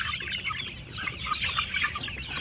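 Meat-type chickens cluck and chirp in a grow-out house, a busy overlapping chatter of many birds at close to moderate distance, continuous and fairly soft.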